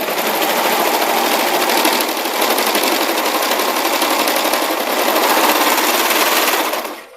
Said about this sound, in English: I'm going to turn on my knife and just trim those edges that 1/8 of an inch.